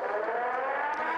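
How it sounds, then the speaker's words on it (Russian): A civil defense siren sounds during a republic-wide warning system test, its steady, loud wail holding continuously throughout with no talking. "Текст сопровождала сирена."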